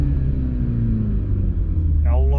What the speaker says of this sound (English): you put the clutch in and you just feel and see the RPM hanging